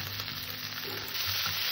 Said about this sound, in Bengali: এমনি একটু সুন্দর করে ভেজে নেব